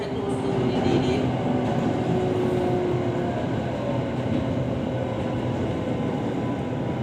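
On board an SRT Red Line electric commuter train nearing Bang Bamru station, a loud, steady rolling rumble fills the car, with a low hum and faint whining tones that slowly shift in pitch.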